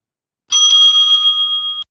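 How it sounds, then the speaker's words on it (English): A timekeeper's bell at a student interbatch debate rings bright and loud in one sustained, slightly wavering tone lasting over a second, then cuts off into silence. "The timekeeper will ring the bell twice"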